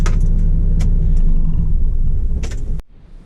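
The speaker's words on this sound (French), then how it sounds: "En fait là il arrive encore deux voitures de flics" Police cars arriving near a roadside truck-stop restaurant, a steady low road rumble of vehicles rolling in close by, building slightly before cutting off abruptly near the end.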